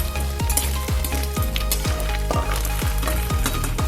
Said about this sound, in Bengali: বাকি মাছগুলো আমি এইভাবে ভেজে নেব।